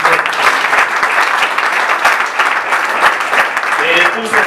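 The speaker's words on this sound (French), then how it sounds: "vous pouvez les recevoir sous les applaudissements" A crowd applauds to welcome guests at a Huawei partnership event at ISTA Mushetu, dense loud clapping that runs steadily throughout, with voices mixed in underneath.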